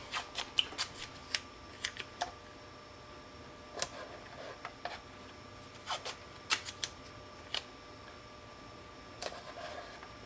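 Strips of new masking tape peeled off a roll and pressed down on a 1:350 scale Klingon K'tinga cruiser model kit, giving sharp, scattered tearing and crackling bursts at irregular intervals, close and fairly quiet with no talk.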